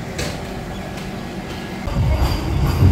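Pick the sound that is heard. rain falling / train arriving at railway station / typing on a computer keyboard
train arriving at railway station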